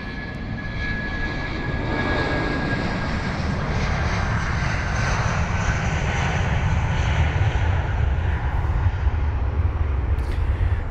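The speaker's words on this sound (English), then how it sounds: "And now we've got the Emirates A380" Emirates Airbus A380 airliner at London Heathrow, its engines producing a loud, steady, broad roar that holds for about eleven seconds, with no talk over it.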